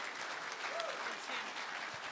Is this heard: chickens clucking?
no